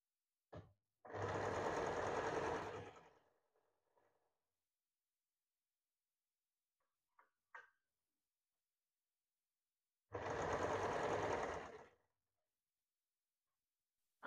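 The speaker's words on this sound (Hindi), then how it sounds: "देखिए बिल्कुल कॉर्नर पे आपको यहाँ पे सिलाई देना है।" Sewing machine stitching a blouse seam at the corner, two bursts of rapid close whirring about two seconds each, separated by a long quiet gap with a few small clicks.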